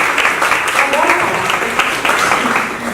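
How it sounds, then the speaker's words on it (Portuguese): A panel audience at a design discussion applauds a speaker, a dense wash of clapping that is loud and sustained, with some voices mixed underneath. "Palmas, Patrica."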